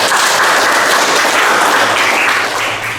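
Steady applause from a classroom of students after a classmate's presentation on an Islamic religious lesson, dense and continuous for the full stretch with no voices over it.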